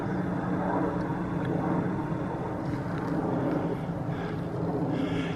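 An aeroplane drones overhead in a steady, broad rumble that holds at moderate loudness for several seconds, with no talking over it.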